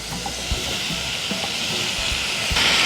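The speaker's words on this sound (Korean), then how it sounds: "그래서 이렇게 한번 센 불에 볶아줄 거예요." Beef and vegetables stir-fry over high heat in a pan, a loud, steady sizzling hiss. Occasional soft knocks from stirring break through it, with no voices.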